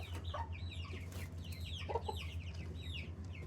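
Baby chicks peep and cheep continuously in a brooder box, with hens clucking nearby, a steady busy chorus of short chirps over a low hum.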